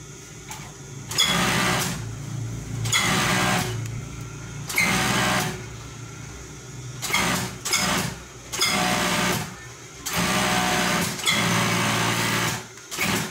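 Sewing machine stitching along the edge of a garment, running in bursts of a few seconds each with short pauses between them, a close, steady mechanical whirr and rattle.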